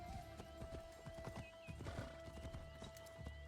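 A horse in the Assassin's Creed Shadows video game clops along, its hoofbeats quick and even under a faint game soundtrack, and a whinny rings out near the middle.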